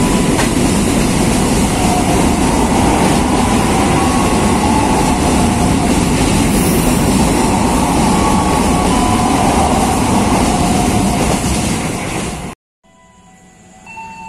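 A train on a railway line in Indonesia rushes past at close range, a loud continuous roar with rhythmic clatter of wheels over rail joints, cutting off sharply near the end.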